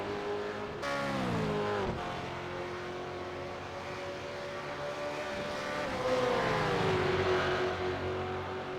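A race car circulating at Mosport, a distant engine drone whose pitch falls and then steadies, swelling slightly louder late on, steady and unbroken with no voices.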